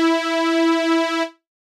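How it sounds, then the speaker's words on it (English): A classic fat synthetic saw wave sample sounds as one bright, buzzy, sustained tone, loud and alone, held for just over a second before it stops abruptly. "This is a classic fat synthetic saw wave."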